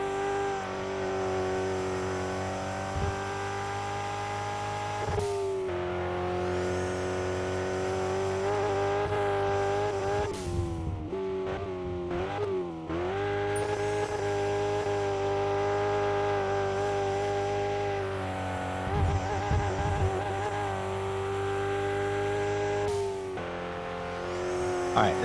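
Race car engine on a track winds up steadily through the gears, loud and close, with brief dips at shifts and a sustained high drone that holds near the top of fourth gear.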